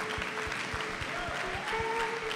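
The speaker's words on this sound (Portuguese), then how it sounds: "Quem pode aplaudir a Jesus pela vida deles?" A church congregation claps steadily, a short burst of applause at moderate distance with a faint tone humming underneath.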